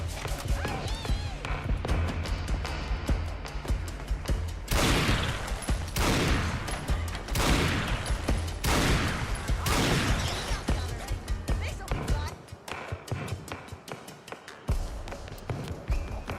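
Gunfire in Fallout London, a run of sharp, loud shots spaced a second or so apart, amid busy combat noise and scattered clatter, with a brief lull near the end.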